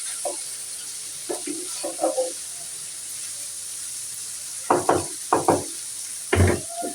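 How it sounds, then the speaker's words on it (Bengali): Okra being fried in a pan, with a steady soft sizzle underneath and several clattering bursts of stirring, two short scrapes early on and three louder bouts near the end. "তো ভেন্ডি ভাজিটা আগে বসাই দিব বন্ধুরা"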